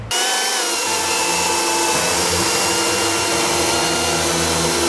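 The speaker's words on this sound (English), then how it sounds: "Because ripping, much harder for a chainsaw." A loud, steady motorized roar of a Makita 40V cordless chainsaw ripping wood along the grain, dense and close, holding without pause.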